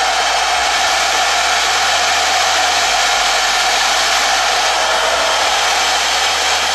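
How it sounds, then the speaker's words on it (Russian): A hair dryer blows steadily and loudly for the whole stretch, a constant close-up whoosh with a low hum, drying a pair of wired Apple EarPods earphones after cleaning, with no talking. "берем фен, подключаем и просушиваем их."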